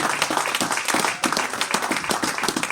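A church congregation breaks into dense, sustained applause, many hands clapping loudly and continuously together in an enclosed worship space.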